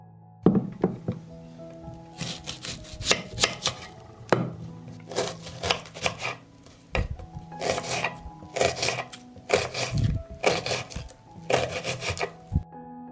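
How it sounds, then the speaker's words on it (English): A knife chops through an onion on a cutting board in bursts of quick, crisp strokes with short pauses between them, close and clear with no talking. "I will cut an onion."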